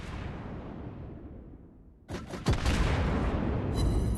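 Naval gunfire in the World of Warships Blitz video game: after a quiet stretch, a sharp boom and a loud blast ring out, followed by sustained rumbling battle noise.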